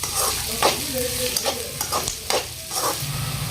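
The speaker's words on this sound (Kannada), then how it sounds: "ಈಗ ಉಳ್ಳಾಗಡ್ಡಿ ನೋಡ್ರಿ ನಾವು ಈ ಥರ ಪೂರ್ತಿ ಕೆಂಪಗೆ ಆಗೋ ಮಟ್ಟ ಫ್ರೈ ಮಾಡ್ಕೊಳ್ಳಿ" Chopped onions frying over a high flame in a kadai for restaurant-style aloo dum, close and loud, with a steady sizzle broken by repeated scraping stirs of a spatula against the pan.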